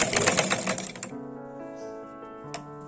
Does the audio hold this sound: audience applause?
no